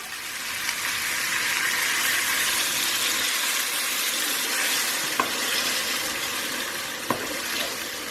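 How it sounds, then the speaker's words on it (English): Chicken pieces for a potato curry sizzle and fry in a pan while being stirred, a steady close crackle with a couple of sharp scrape clicks from the spoon. "I have been stirring this chicken for about 3 minutes now till the colors change from pink to white"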